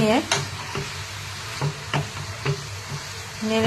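Grated carrot for gajar halwa is gently stirred in a pan. Soft spatula scrapes and taps come at an irregular pace over a low, steady sizzle, close by.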